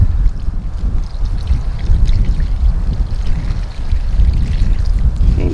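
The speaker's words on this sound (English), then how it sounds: "You just take about that much right there and just pour it around the base of each plant." Homemade liquid plant fertilizer is poured slowly from a bucket around the base of garden plants, making a steady, close splashing and gurgling stream that lasts several seconds with no speech.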